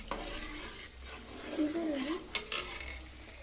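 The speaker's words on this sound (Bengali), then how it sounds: "এই যে পোলার চালটা দিয়ে লাড়তে হবে। লাড়লে না লাড়লে লেগে যাবে।" A spoon stirs rice in a pan for payesh, giving soft scraping strokes with a faint sizzle and a couple of sharp clinks against the pan near the end, all close up and fairly quiet.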